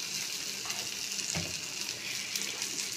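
Food frying with turmeric in a pan, stirred continuously: a close, steady sizzle with soft scraping and a brief louder stir partway through.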